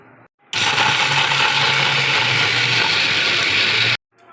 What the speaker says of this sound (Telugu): దీన్ని ఇప్పుడు మనం మిక్సీ పట్టుకుందాం.